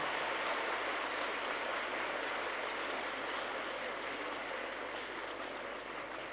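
Children clap together in a school hall at a Reading Day commemoration, making a dense, steady wash of applause that sounds somewhat distant and fades slightly toward the end.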